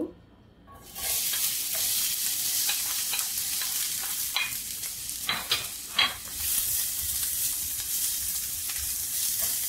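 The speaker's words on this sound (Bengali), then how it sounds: "নেড়ে চেড়ে পেঁয়াজ গোল্ডেন কালার করে ভেজে নেব" Chopped onions stir-fried in oil in a pan for tuna kabsa: a steady, close sizzle that starts after a short quiet moment and continues to the end, with scattered scraping and clacking from stirring.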